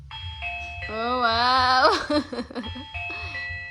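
A smart video doorbell mounted for a gate plays a bright electronic chime of sustained, sliding tones, followed by short beeps, with a brief exclamation from someone nearby.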